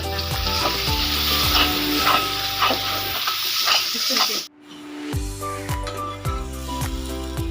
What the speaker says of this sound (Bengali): দুটো শুকনো মরিচ দিয়ে দিলাম, কাঁচামরিচ পেঁয়াজ দিয়ে দিলাম, ভেজে নেব।